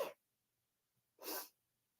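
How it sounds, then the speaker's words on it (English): A person's sneeze as a sharp, breathy burst, with a short intake of breath at the start and a louder explosive release about a second later, close and otherwise quiet. "Oh, I hate sneezing so much."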